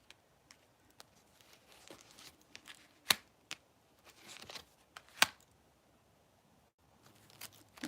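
Tarot cards being shuffled by hand: quiet, close riffling and papery flicks in irregular bursts, with a few sharper snaps between near-silent pauses.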